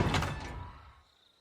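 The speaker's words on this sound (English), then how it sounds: "open the door" A door opens in an old house with a short scraping, sliding rumble that fades out within about a second, nearby and fairly quiet, with no talking over it.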